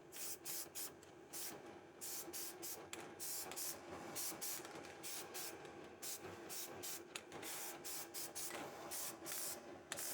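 New truck U-bolts, their threads masked off, get a light dusting from a spray paint can in a garage. Short hissing spray bursts repeat in a quick, uneven rhythm, close and fairly quiet, with no talking.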